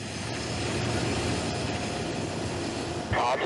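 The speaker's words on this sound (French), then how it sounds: "Ils volent à bord d'Alpha Jet, les avions écoles de l'armée de l'air." An Alpha Jet training aircraft of the Patrouille de France flies with a loud, steady jet roar that fills the clip, ending in a short louder burst.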